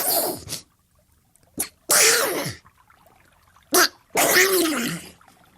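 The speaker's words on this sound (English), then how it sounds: "She sits, tries to catch her breath, and sneezes 3 times in a row." A woman sneezes three times in a row after sitting on a bench, each loud, close sneeze preceded by a short sharp inhale, with brief quiet pauses between them.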